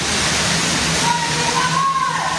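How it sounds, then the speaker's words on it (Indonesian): Sewage waste from a septic truck pouring into the Ciliwung river in Depok, West Java: a loud, continuous rushing gush of liquid, with a faint tone rising briefly through it. "truk sedot WC membuang muatan limbah kotoran manusia ke aliran Sungai Ciliwung"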